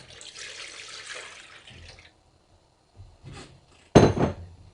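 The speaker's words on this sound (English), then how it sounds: "We are going to add that water into our roasting dish." Water is poured into a roasting dish holding roasted beef bones, heard as a steady close hiss of splashing liquid for about two seconds, then a pause, a small splash and a louder clattering slosh.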